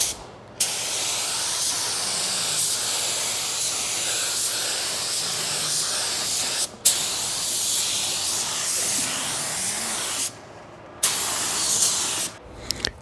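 Spray gun laying pearl coat over touch-up spots on car paintwork, a loud, steady airy hiss in long bursts with brief gaps between passes.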